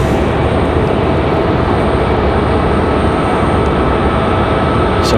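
Sunrise Airways airplane at RDU airport in Raleigh-Durham at sunset, a loud steady engine roar filling the air without letup, broad and rumbling throughout.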